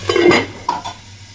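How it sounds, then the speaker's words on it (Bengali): A metal lid clanks onto a pan of cooking flat beans, followed by a lighter clink as it settles, then quiet. "তাহলে চলুন এটা আবার আমি ঢাকা দিয়ে দিই"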